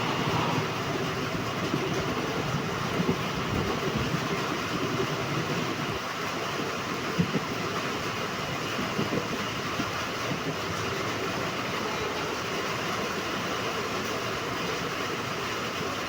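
Passenger train on the new Gadag–Wadi railway line slowing as it enters Kushtagi town, a constant rumbling interior drone with faint rhythmic clicks of wheels over rail joints, steady throughout.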